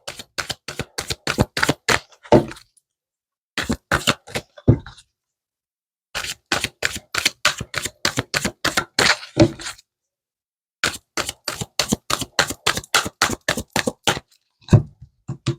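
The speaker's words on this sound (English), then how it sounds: "I'm going to shuffle again" Tarot cards are shuffled in repeated bursts of sharp, rapid riffling clicks separated by short silences, close and loud, with no talking over them.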